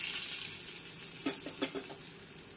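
Steady hiss of hot oil sizzling in a kadai as a spice tempering is added for a spiced elephant yam dish, with a brief burst of sharp crackling and spattering midway, no voices.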